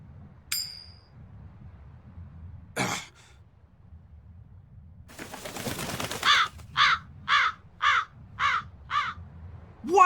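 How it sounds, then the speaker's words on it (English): A crow caws six times in a steady rhythm, loud and close, in the video game Tales of Berseria, after a throaty rasp and a burst of flapping wings. "That crow just flew off with the coin!"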